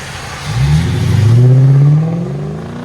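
A Lexus LS 460 with a 4.6L V8, factory converters and X-pipe, DynoMax race bullets and a rear muffler delete, accelerating: a close, deep exhaust roar that swells and climbs in pitch over about two seconds, then eases.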